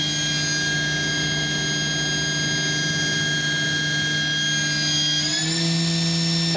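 A 2006 YCM Supermax XV1020A CNC vertical machining center spindle spins at high speed, giving a steady, loud whine with layered tones that shift upward near the end as the speed changes. No one speaks.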